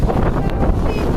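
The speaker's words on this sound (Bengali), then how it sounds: "ব্যাপক পরিমাণে হাওয়া দিচ্ছে" Strong wind from a storm gusting across open fields near a village house, loud buffeting rush hitting the microphone up close, with no voices.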